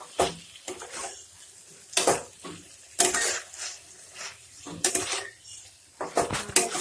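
Chicken with green chillies is stirred and fried in a pan, with irregular loud scrapes and clanks of a utensil against the pan over a low sizzle.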